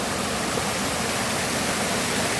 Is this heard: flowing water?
yes